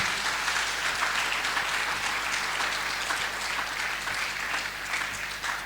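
A church congregation applauding Jesus, a dense, continuous wash of clapping from many hands that fills the room at an even, loud level for several seconds, with no voices standing out.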